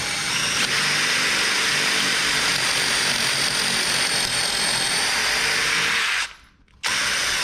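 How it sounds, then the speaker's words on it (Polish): A power drill whines continuously and loudly at close range, boring a deep hole into a wall to mount a shelf, then stops briefly before starting again. "Nawiercam trochę, wyjmuję urobek i dalej."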